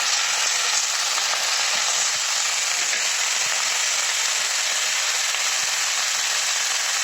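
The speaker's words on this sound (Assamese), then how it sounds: "এতিয়া আমি লাওৰ এইখিনি অকণমান ভাজি ল'ম" Steady, continuous sizzling of tender bottle gourd leaves frying in a hot pan, loud and close, with a few faint clicks of stirring and no voices.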